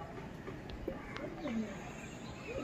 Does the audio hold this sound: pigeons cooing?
yes